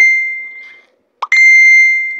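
Phone message notification sound: two bright chiming dings separated by a short pause, close and loud, each ringing out with a clean sustained tone.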